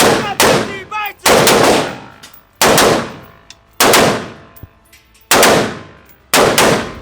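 Capital M4 platform rifle firing at a shooting range: six loud, sharp shots spaced roughly a second apart, each with a short ringing decay, with no talking.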